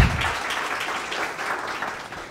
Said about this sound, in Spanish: Les damos un gran aplauso de bienvenida a ellos.